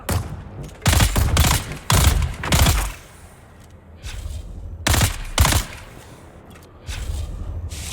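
Turret firing in Dune: Awakening, loud bursts of rapid shots separated by quieter pauses, several distinct volleys close by with no talk.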